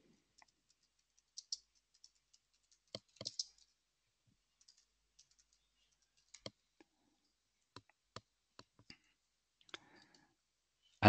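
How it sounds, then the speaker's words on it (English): Sparse, quiet clicks of typing on a computer keyboard, irregular single keystrokes and small clusters spread over several seconds in an otherwise silent room. "So I could then go to here and type that in manually."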